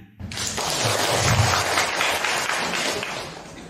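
An audience at a Buddhist dharma talk on filial piety bursts into applause, a thick, continuous wall of clapping that rises quickly and holds at a steady level with no speech over it.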